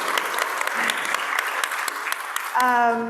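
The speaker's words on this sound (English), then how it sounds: "Can we give him a round of applause" Applause from a summit audience of caregivers and domestic workers, a steady patter of clapping lasting about two and a half seconds before a brief tonal sound cuts in at the end.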